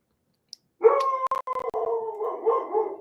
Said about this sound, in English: Somebody is walking up the steps, so Peanut is going to bark